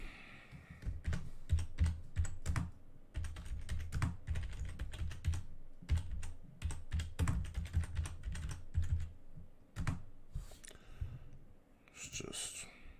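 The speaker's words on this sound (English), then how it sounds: "I'll be typing a little bit" Rapid computer keyboard typing in irregular bursts of clicks, close and fairly loud, with soft background voices from a live football broadcast between the keystrokes.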